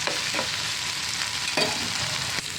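Ginger and garlic fry in a pan while being stirred, a steady close sizzle broken by a few scraping stir strokes across the pan.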